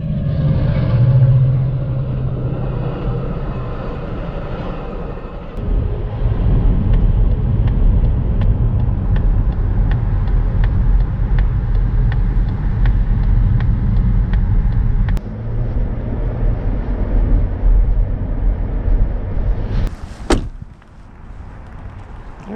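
A 2025 Mazda CX-50 Premium Plus driving on an Illinois road, with a loud steady low rumble of tyres and engine inside the cabin, a brief sharp clunk near the end as the drive settles quieter.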